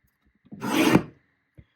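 A paper trimmer blade slides through a sheet of scrapbook paper in one short, close rasping cut, followed by a faint tap.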